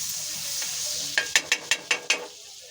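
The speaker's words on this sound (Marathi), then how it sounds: "आता आपल्याला लगेच पाव तळून घ्यायचे. आता बटर लावून घेऊया." Pav bread fries in butter in a pan for pav bhaji, a soft steady sizzle followed by six sharp, evenly spaced scraping knocks of a spatula against the pan, close and clear.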